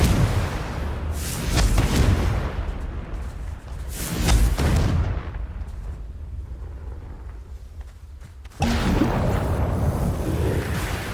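Confringo spell blasts go off in the Hogwarts Legacy video game: two loud, rumbling booms a couple of seconds apart, each swelling and fading, followed later by a sudden surge of sustained roaring noise.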